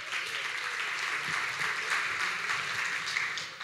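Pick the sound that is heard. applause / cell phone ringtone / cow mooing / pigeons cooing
applause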